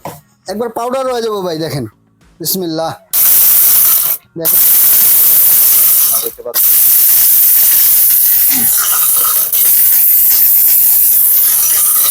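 An electric blender grinding turmeric pieces, a loud harsh whirring roar in several bursts separated by short pauses, then running continuously, close by, with someone talking at the start.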